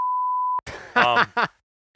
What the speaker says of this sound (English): Because I don't want to make Brian beep out the word